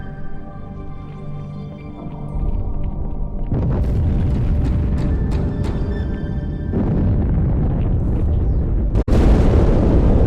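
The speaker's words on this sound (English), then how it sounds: "That explosion came from inside the Athens, same as the Malta." A loud, sustained explosion inside the Halo 2 video game: a deep roaring boom that rumbles on for several seconds, then a sharp burst near the end, with no talk over it.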